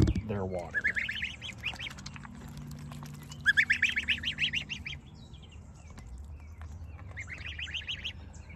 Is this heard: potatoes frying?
no